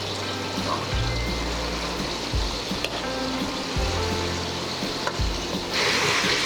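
Broad beans frying in plenty of oil in a large pan, producing a steady bubbling sizzle with low rumbling bursts, close and moderately loud, brightening toward the end.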